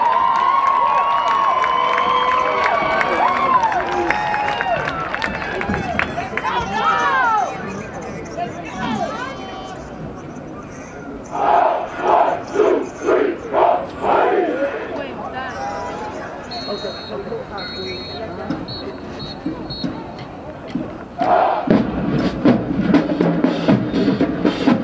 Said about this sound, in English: put your hands together and make some noise for your marching maroon and white band